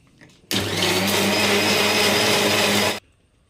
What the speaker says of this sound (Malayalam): ഇത് ജാറിലിട്ടൊന്ന് നന്ന പേസ്റ്റായിട്ടൊന്ന് അരച്ചെടുത്തിട്ടുണ്ട് കുറച്ച് വെള്ളവും കൂടി ചേർത്താണ് അരച്ചെടുക്കുന്നത്